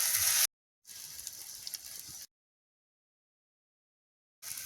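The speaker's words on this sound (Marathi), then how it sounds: "तशा चकल्या आपण सोडून घ्यायच्या आणि त्यानंतर त्या उलट्या पालट्या करीत राहायच्या" Chakli spirals frying in hot oil give off a bright, hissing sizzle in short bursts broken by silent gaps, close and fairly loud, with no voices.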